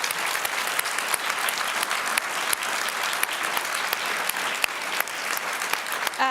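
Sustained audience applause at the NATO Public Forum, dense and even, with individual sharp claps standing out through the continuous roar for several seconds.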